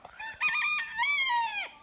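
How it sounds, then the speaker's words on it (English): A rooster crows once nearby, loud and clear, its harmonic call rising and then sliding down at the end, with faint clucking before it and no voices. "Hey, stupid roosters!"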